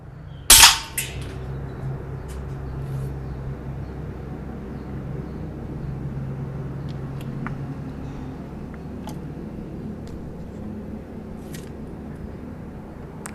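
A single sharp high-pressure air gun shot fired at a brick, a loud crack near the start, followed by a steady low rumble of outdoor background.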